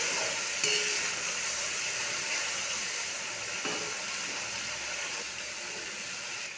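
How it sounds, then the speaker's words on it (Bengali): Masala cooked down with tomato sauce sizzles steadily in oil, a continuous close hiss with a couple of faint stirring clicks. "মশলা খুব ভালোভাবে কষানো হয়ে গেছে, তেল ছেড়ে আসছে"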